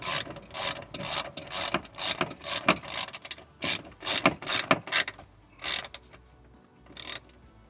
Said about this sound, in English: I'm gonna proceed by tying this bolt with a number 10 socket.